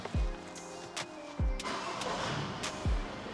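A Volkswagen Golf being started at home for a service: repeated deep thumps of the engine turning over at steady intervals, then a running engine rumbling close by.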